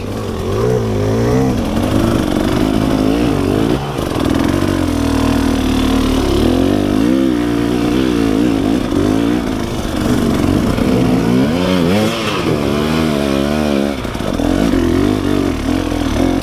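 Engine of a hard enduro dirt bike being wrestled over rough terrain, a loud continuous drone that revs up and down in wavering surges throughout, close and dominant.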